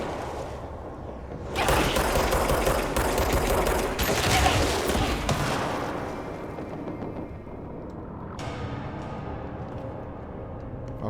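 Sustained gunfire and blasts fill the action game Control during a firefight, loud and dense for several seconds, then easing into a rumbling, crackling tail with scattered shots.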